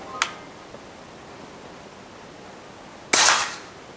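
Airsoft gun fired during a velocity test, one sharp loud shot near the end with a short hissy tail, after a faint click at the start and quiet room background.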